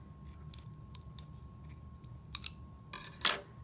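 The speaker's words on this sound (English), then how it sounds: "we're going to cut a slit right through the center of the smaller straw, about 1 inch long" Scissors snip a slit through the center of a small drinking straw for a flapping butterfly craft, a few faint, crisp cuts spread out and ending in a louder snip, close by and alone.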